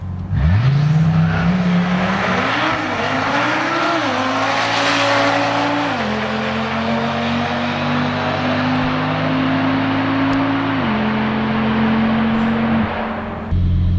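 An Audi RS3 built to TTE700 spec and fitted with a Syvecs Haldex controller launches hard down a quarter-mile drag strip. The engine note climbs loud and close through several sharp gear changes, holding a steady roar for about thirteen seconds before it cuts off.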